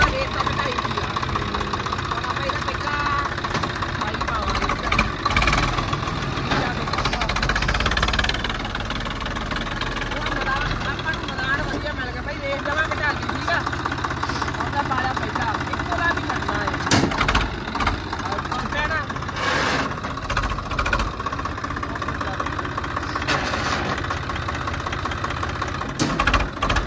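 A tractor engine idling steadily at around 600 rpm, a continuous low mechanical rumble with a knocking texture, heard close up alongside background noise and occasional speech.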